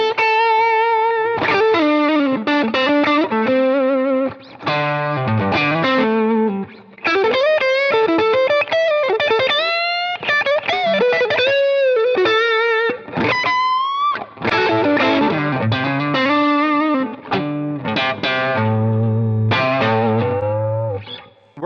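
An electric guitar fitted with Tele pickups rings out through overdrive, a loud, continuous stream of gritty sustained notes and quick melodic runs with thick low chords toward the end.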